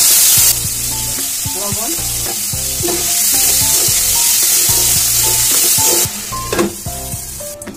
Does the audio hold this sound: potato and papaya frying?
yes